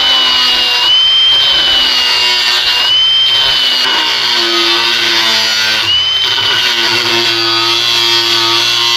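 A power tool cuts a series of thin, shallow grooves into a steel leaf spring for a crossbow build, a loud, continuous high whine with brief dips and pitch shifts as each cut starts and stops.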